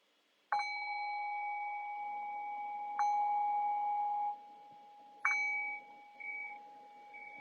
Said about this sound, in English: And I'll cue that by ringing the bell 3 times.